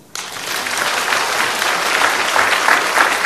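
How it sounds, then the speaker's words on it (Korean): Lecture audience bursts into applause, starting abruptly and building to a loud, dense, sustained wash of clapping from a large crowd that holds steady to the end. "박수."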